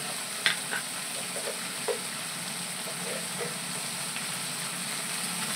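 Masala sautéing in a pan for a home-cooked dish, a steady low sizzle with a few soft scraping stirs and clinks near the start, no voices.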